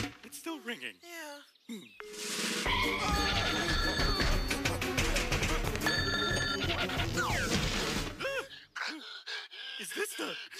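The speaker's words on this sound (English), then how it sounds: "It's still ringing." A telephone rings on and on in a Lazytown scene, a loud sustained ringing under busy background music, with voices speaking briefly before and after it.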